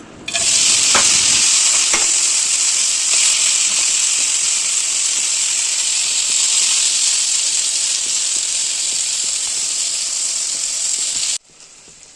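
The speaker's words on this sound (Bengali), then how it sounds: "আমি ফ্রাই প্যানটা বসিয়ে তেল দিয়ে দিলাম, আর উচ্ছেগুলো এই পাশে ভেজে নেবো এখন" Bitter gourd slices fry in oil in a frying pan with a steady, loud, close sizzle that holds evenly for about eleven seconds before cutting off.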